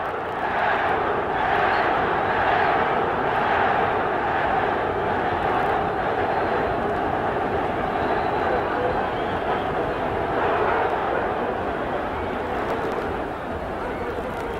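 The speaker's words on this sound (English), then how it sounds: "I guess you can hear the crowd whooping it up." A boxing crowd at the Duran versus DeJesus fight roars and whoops in a steady, dense wash of cheering that holds for the whole stretch without a break.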